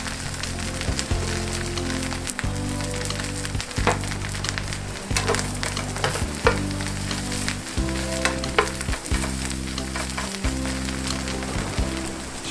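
Brussels sprouts with bacon and Parmesan sizzle loudly in a frying pan while being stirred, with continuous crackling and repeated scraping strokes over a rhythmic low backing beat.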